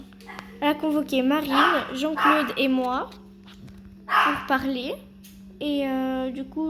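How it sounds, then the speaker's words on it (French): A pet dog barks a few times indoors, close by, while a person keeps talking over it. "Oh, désolé, c'est mon chien."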